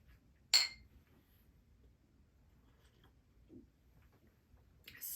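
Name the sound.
glasses clinking in a toast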